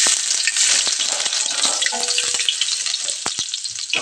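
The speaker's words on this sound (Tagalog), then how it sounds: "pagigisa na tayo" Ginger sautéing in a hot pan for a Filipino coconut-milk vegetable dish, a steady close, loud sizzle with occasional sharp stirring clicks and scrapes.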